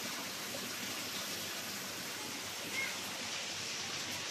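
Water rushes steadily through an outdoor channel deep enough to hold many fish, a continuous even wash of noise with no pauses and no voices over it.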